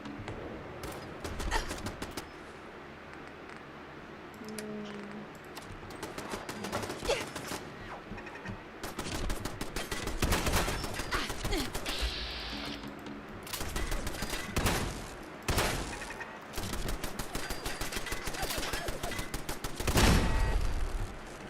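Turret gunfire in Fallout 4, repeated loud bursts of automatic shots with short gaps between volleys, up close and with no talk.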